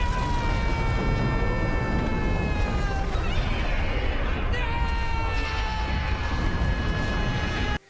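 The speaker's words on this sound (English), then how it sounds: "Vesuvius roars into life." Mount Vesuvius erupting in the Doctor Who episode The Fires of Pompeii, a loud continuous roaring rumble with whistling, descending tones layered over it, filling the scene throughout.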